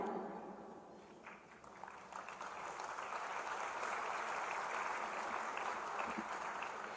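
Continuous applause fills a hall at a state employment fair event in Uttar Pradesh as an official guest is welcomed, a steady moderately loud wash of many hands that swells slightly and holds throughout.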